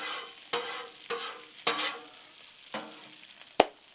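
A spatula scrapes and slides shrimp taco food across a Blackstone flat-top griddle, five or six short rasping strokes about half a second apart over a faint sizzle, ending in a sharp metallic clack, close and with no talking.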